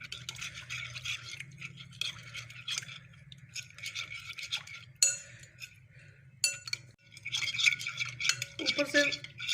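Yeast and flour being mixed for naan dough in a bowl, with repeated close scraping and stirring strokes, light clinks of a spoon against the vessel, and brief pauses between bursts.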